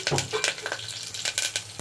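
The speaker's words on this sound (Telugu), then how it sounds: "ఈ ఆయిల్ బాగా హీట్ ఎక్కాక ఇందులో పోపు దినుసులు, కరివేపాకు అయితే వేసుకోవాలి." Mustard seeds, spices and curry leaves for tempering crackle and sizzle in hot oil inside a pressure cooker, close up, with steady frying hiss broken by sharp pops and the odd stir.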